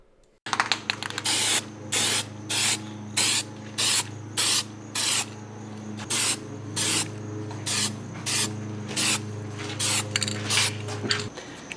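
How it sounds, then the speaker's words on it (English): Spray paint hisses over a fresh weld on a third-generation Camaro steering part, in about a dozen short, even bursts with brief pauses between them, close and fairly loud over a steady low hum. "Now we're going to paint the weld."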